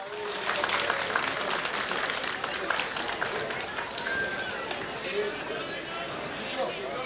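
A festival audience claps steadily in a dense, even patter that carries on throughout, with faint crowd murmur beneath.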